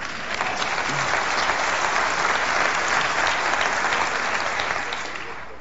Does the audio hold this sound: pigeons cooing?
no